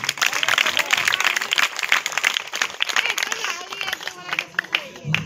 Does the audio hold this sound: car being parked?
no